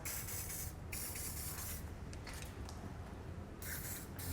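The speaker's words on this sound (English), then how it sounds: "Just take our spray lubricant, spray those down." Steady hissing spray from an aerosol can of spray lubricant on hitch installation parts of a 2016 Lexus IS 300, in long bursts with short pauses, close up over a low rumble.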